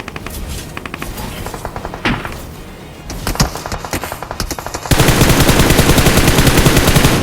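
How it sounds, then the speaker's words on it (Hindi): Gunfire from an AWM sniper rifle in a battle royale game, loud and close, with sharp separate shots and rattling bursts, then a dense roar of noise toward the end. "और अब जरा AWM के फटके देखना।"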